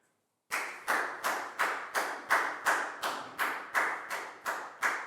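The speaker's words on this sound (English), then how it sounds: "High five and a big round of applause for Lakau, please, guys." A dozen or so sharp, evenly spaced claps in a steady rhythm from a classroom, close and fairly loud, with no voices.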